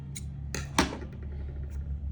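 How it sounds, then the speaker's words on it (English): Scissors snip through crochet yarn in a few quick, close clicks, one sharper cut standing out among them, in an otherwise quiet room. "make one more chain and cut my yarn"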